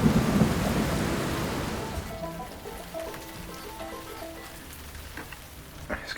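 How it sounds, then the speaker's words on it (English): Strong Storm Ciara wind roars loudly and close outdoors, a heavy rushing gust at the start that eases into a steadier blustery background, with no talking. "Oh, it is windy out there."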